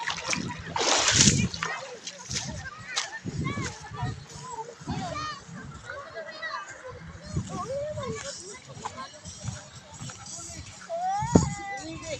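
Many people bathing in shallow water at Sabang, Morong, Bataan, splashing near and in bursts, with children's voices and other talk running throughout.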